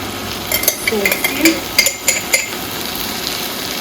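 Vegetables and tomatoes frying in a pan with a steady background sizzle, broken by several sharp clinks and scrapes of a utensil stirring against the pan.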